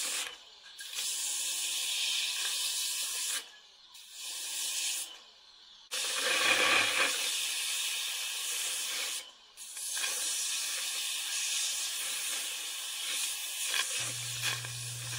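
A 1600 PSI pressure washer sprays loudly in long hissing bursts on a skunk skull, cutting off briefly a few times before starting again.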